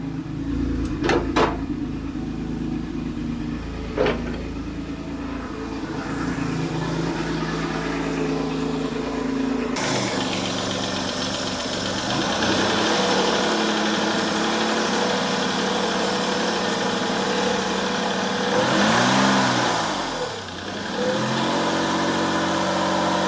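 A noisy hydraulic pump whirring on a running Citroen XM 3.0 24V with a valve fault, a steady close mechanical drone over the idling engine, getting louder and coarser partway through with a brief pitch sweep near the end.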